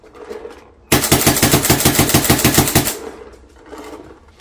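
A paintball marker fires a fast, continuous string of shots for about two seconds over a chronograph. The shots are loud and close, with quieter ambient noise before and after.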